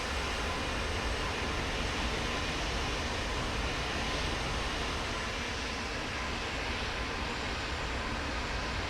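An F-86 Sabre jet taxiing on the ground in DCS, its engine giving a steady, broad whooshing roar with a constant turbine hiss that barely changes throughout.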